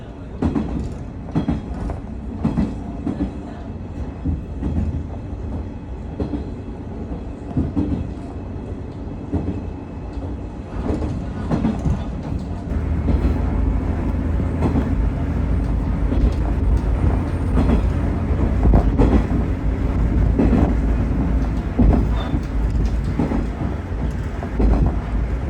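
Train in Japan running on rails, a continuous loud low rumble with rattling and clicks from the wheels, growing heavier and steadier partway through.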